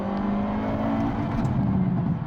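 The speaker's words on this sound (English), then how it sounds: "This car bounces off the rev limiter rather than changing up for you" A Hyundai i30 Sedan N engine holds high revs against its limiter, giving a steady, loud buzzing drone with slight rhythmic stutter, heard from inside the car without talk.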